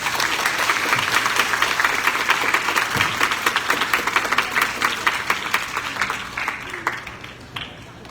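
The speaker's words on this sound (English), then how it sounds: "Let us give her a round of applause" An audience claps steadily at a Grade 6 graduation ceremony at Valle Verde Country Club, sustained applause in a large space that thins out and fades toward the end, with voices faintly mixed in.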